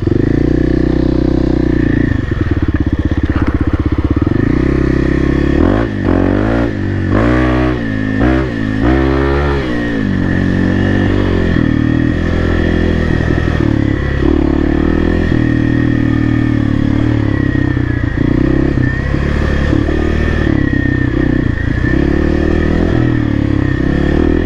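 Dirt bike ridden on an off-road OHV trail, the engine loud and close throughout, revving hard in repeated surges midway as it pulls wheelies, then droning on with rattling clatter, no talking.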